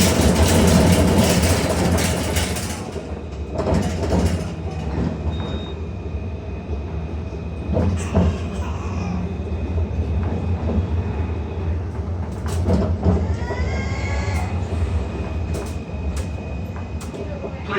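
A Melbourne route 109 tram on the Port Melbourne to Box Hill line rumbles along with a low, continuous rolling drone, sharp rattles and squeals, and an onboard announcement voice heard faintly over the noise.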